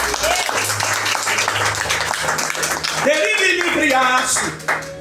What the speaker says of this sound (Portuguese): aplauda o nome de Jesus bem forte